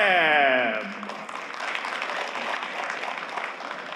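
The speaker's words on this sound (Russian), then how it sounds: "под ваши аплодисменты мы начинаем" Audience applause breaks out at a boxing tournament as a spoken announcement trails off. The clapping builds into a broad, steady roar of many hands that carries on for several seconds.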